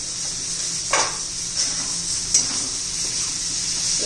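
Turmeric, coriander powder and red chilli powder are stirred into an onion and capsicum sabzi in a pan, giving a soft continuous sizzle with a couple of sharp spatula taps against the metal.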